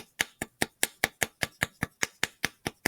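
Paddle or spatula tapping leather-hard pottery clay to refine and shape it; a steady series of about thirteen sharp, evenly spaced taps, close and clear with no talking.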